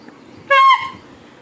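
A fairground horn sounds one short, loud, bright honk lasting about a quarter second, then stops.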